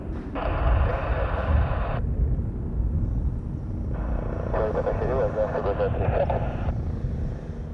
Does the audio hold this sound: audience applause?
no